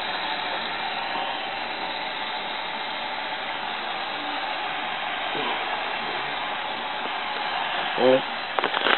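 Aoyue INT866 hot air rework station blowing a steady, even rush of heated air that holds unbroken throughout, with a few faint clicks near the end.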